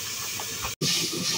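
Water is poured into a pot of radish sour curry during cooking, making a close, steady rushing hiss that cuts out for a split second and then resumes with bubbling, sloshing tones.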